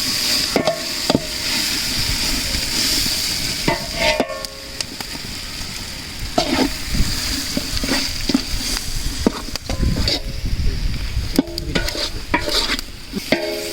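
Spices get stirred into an Ambur-style country chicken biryani in a pot, with loud, close scraping and clattering strokes over a continuous frying sizzle, irregular and busy throughout.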